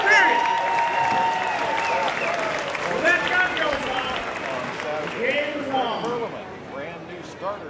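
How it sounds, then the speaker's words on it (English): Crowd applauding and cheering for five riders lined up at a 2014 pig and Ford race, a broad wash of clapping mixed with voices and whistles, steady then gradually thinning across the clip. "Give these five a big round of applause."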